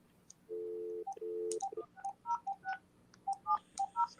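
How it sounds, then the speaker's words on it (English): A house telephone being dialed: two longer tones followed by a quick series of short keypad beeps, faint and clean with no talking. "I'm gonna call Larry on the house phone."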